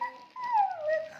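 A child imitates a dog with a thin, drawn-out whimpering yip that rises and falls in pitch, close and fairly soft, with no other talk.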